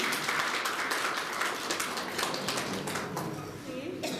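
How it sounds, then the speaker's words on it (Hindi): Audience applause at a school management committee felicitation ceremony, a steady patter of many hands clapping through the whole stretch, moderately distant and fairly soft, with indistinct voices mixed in. "तालियां प्लीज बजाइए"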